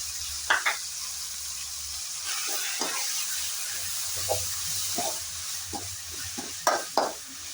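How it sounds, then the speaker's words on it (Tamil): Soft sizzling of a blended paste being sautéed in a pan for beef varuval, with intermittent scraping and stirring strokes, fairly quiet and close, with no talking. "நல்லா பச்சமாக போகிற வரைக்கும் நல்லா வதக்கிக்கலாம்."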